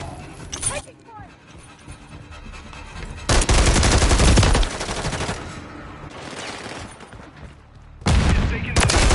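Loud bursts of automatic gunfire from a Call of Duty match, with heavy volleys near the start, in the middle and at the end, separated by quieter battle noise and game voice callouts.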